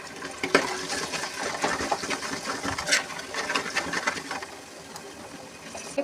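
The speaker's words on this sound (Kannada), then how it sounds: "ಇದಕ್ಕೆ ಕರ್ಬೇವಿನ ಸೊಪ್ಪು ಹಾಕ್ಕೊತಿದ್ದೀನಿ." Curry leaves dropped into hot oil for rasam crackle and sputter in a dense, continuous sizzle with sharp pops scattered throughout, close and steady with no talking.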